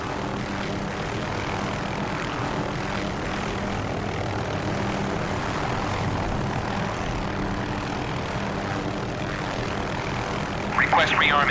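MH-6J helicopter in DCS World, a steady engine drone and rotor hum running continuously, with a brief higher-pitched electronic tone near the end.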